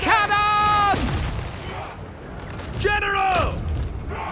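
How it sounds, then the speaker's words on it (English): Gunfire and cannon boom through a battle game, with heavy blasts and crackling shots amid the clash, while shouted voiced commands sound loudly over the fighting. "Great cannon!"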